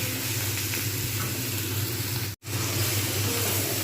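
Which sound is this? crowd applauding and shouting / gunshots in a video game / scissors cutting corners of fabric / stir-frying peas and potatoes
stir-frying peas and potatoes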